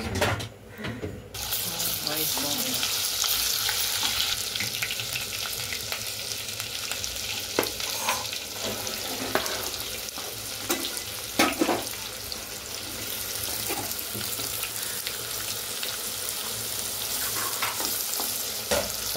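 Ginger garlic paste fries in hot oil while a spoon stirs and scrapes the pan, a steady sizzle with repeated clinks and scrapes at close range, and a tap runs water into a sink alongside.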